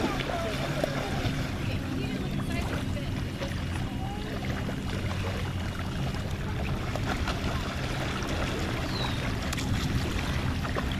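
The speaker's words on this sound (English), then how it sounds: "Somebody out there on their speedboat" A speedboat motor on a lake at Buck Creek State Park, a distant, steady low drone heard under continuous wind and outdoor ambience with people talking nearby.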